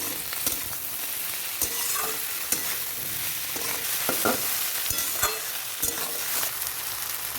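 Constant sizzling of vegetables frying in mustard oil for chow mein, broken by regular scraping and knocking as a spatula stirs them around the pan.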